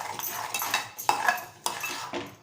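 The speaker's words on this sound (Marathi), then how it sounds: "छान परतून घ्यायचं आपल्याला।" A spoon clinks and scrapes in a pan while Malvani-style mandeli fish curry masala is sautéed, giving several separate metallic knocks and scrapes against a faint background, with no voices.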